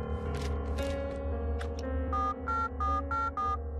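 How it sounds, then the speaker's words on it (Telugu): A telephone rings on an outgoing call: a series of electronic ringing tones, with a steady run of evenly spaced, buzzy beeps in the later half over a constant low hum. "రింగు వెళ్తోందయ్యా."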